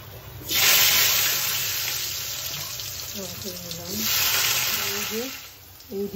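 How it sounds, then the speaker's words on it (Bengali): Scrambled egg with carrot and green beans fries in a pan, a loud sizzle that swells and fades in waves while a voice speaks over it. "এই ডিমের স্ক্রাবটা আর গাজর বরবটিটা একটু ভালো করে ভেজে নিয়েছি"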